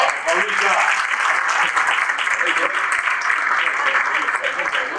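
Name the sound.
audience applause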